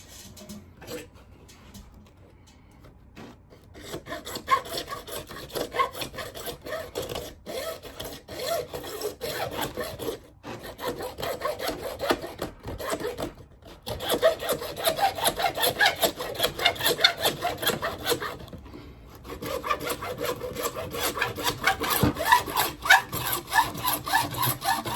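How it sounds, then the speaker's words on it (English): Hacksaw cutting through PVC pipe, steady back-and-forth rasping strokes in a regular rhythm, close and moderately loud, with a few brief pauses between runs of strokes. "Start at this end of the hacksaw and drag it back slowly to make an indentation. Then simply saw it off."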